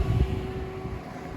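A 1997 Mercedes S500 idles just after a cold start on a cool 50-degree morning in Seattle, a steady low engine hum with a faint constant whine, fairly quiet and even, with no voices.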